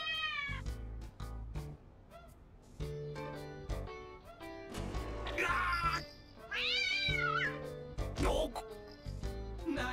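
Cat meowing in the video game DDS, several distinct meows with rising and falling pitch over background game music, fairly close and clear, with a couple of longer drawn-out calls.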